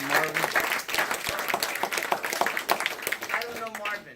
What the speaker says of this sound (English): Everybody give Marvin a round of applause.